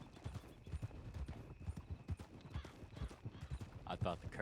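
Horses in the WildRP video game clop steadily through deep water, with rhythmic hoofbeats under people talking and a brief whinny near the end.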